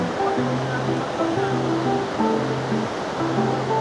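Waves crash near a waterfall on a coastal outing in Taiwan, a loud, steady roar of rushing water that fills the scene without letting up. Faint voices or tones sit underneath.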